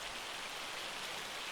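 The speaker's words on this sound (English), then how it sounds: "And the first thing we get is rain." Rain falls steadily in Farming Simulator 25 on the Elmcreek map, an even, close hiss of drops with no pauses or other sounds.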